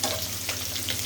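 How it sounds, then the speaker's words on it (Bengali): Dried red chili and black cumin seeds sizzle in hot oil for tempering, alongside garlic, a steady crackling fry with faint stirring, close and continuous. "ফোড়নের জন্য আমি হচ্ছে দিয়ে দিব একটা শুকনো মরিচ আর কিছু কালো জিরে দিয়ে"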